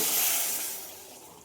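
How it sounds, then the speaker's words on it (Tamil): Water poured into a hot pot of mutton gravy hits with a loud, close sizzling hiss that fades steadily over about a second and a half. No talk. "இந்த டைமில் வந்து நம்ம தண்ணி ஊற்றிக்கலாம்"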